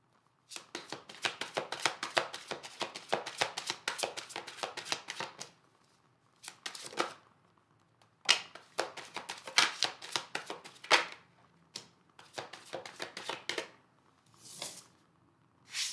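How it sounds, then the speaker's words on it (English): Tarot cards are shuffled by hand in long, rapid riffling bursts. Each burst is a dense flutter of crisp card snaps, broken by short pauses and a few brief single shuffles, close and fairly quiet. "One more shuffle here, sorry."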